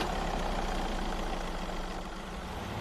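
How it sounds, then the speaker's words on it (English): A car engine in an Unreal Engine 4 PhysX vehicle game hums as a steady, fairly loud, low idling drone, alone and unchanging throughout. "We said we'll hear the ignition sound"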